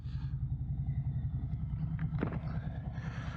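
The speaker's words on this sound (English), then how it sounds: "A little bit of rumble at the stoplight." Harley-Davidson motorcycle engine idling at a stoplight, a low steady pulsing rumble heard close, with faint higher noise toward the end.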